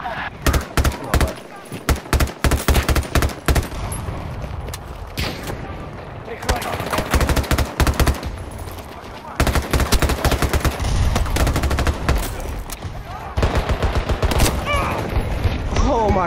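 Rapid bursts of automatic gunfire from a weapon in the video game Battlefield 2042, loud, dense volleys separated by short pauses, with a player talking over parts of the action.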